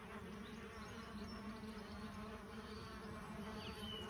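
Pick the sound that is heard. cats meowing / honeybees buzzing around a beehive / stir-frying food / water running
honeybees buzzing around a beehive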